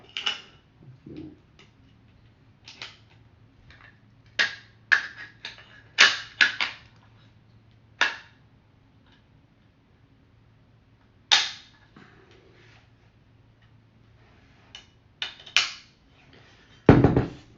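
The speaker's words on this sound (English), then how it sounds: "I'll take the upper, marry that with the lower" An AR-556 pistol upper receiver being fitted onto its lower, with sharp metallic clicks and clacks of parts seating, scattered irregularly and close by in quiet surroundings, ending in a louder snap.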